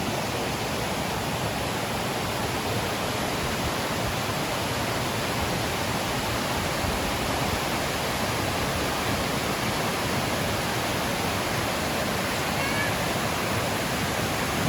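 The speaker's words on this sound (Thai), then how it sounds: "เราจะดูเฉพาะ น้ำตก" A steady, dense rush of falling water from the Cascade du Nideck waterfall in Alsace, France fills the clip, constant and enveloping with no pauses.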